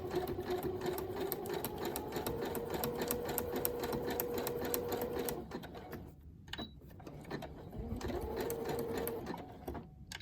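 A sewing machine runs steadily with a fast, even mechanical whir and needle clatter, stitching fabric, pausing briefly before starting up again nearby.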